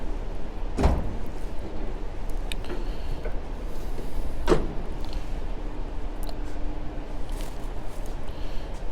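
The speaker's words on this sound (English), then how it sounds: "Next drawer." A drawer of a company-supplied mechanic's toolbox slides open, with a sharp metallic clunk near the start and another midway, set against a steady low hum of the workshop.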